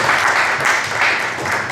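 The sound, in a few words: audience applause at drone conference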